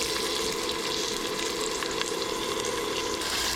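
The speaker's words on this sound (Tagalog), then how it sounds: "Maglalagay na po tayo ng mantika. Lalagay na po natin yung luya." Ginger hits hot cooking oil and crackles in a continuous, even sizzle, close and moderately loud with a faint crisp popping texture throughout.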